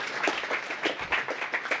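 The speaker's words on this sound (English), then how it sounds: "You can applaud politely if you like." Polite audience applause at the close of a presentation, a modest patter of scattered claps with rhythmic surges, fairly quiet and steady throughout with no voices over it.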